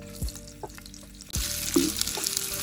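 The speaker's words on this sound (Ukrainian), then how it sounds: "Відправляємо сало і натоплюємо жирок. Ай-яй-яй, парчить." Pork fat (salo) hits a hot oiled pan and breaks into a steady sizzle as it renders, preceded by a couple of soft clinks and thuds, the frying hiss loud and close.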